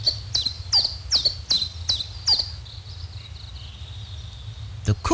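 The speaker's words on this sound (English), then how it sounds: "The chiff-chaff." A chiff-chaff repeats a sharp, high two-note chirp about seven times in a quick, even rhythm, then a thin trailing note and a click, close and clear over a low hum.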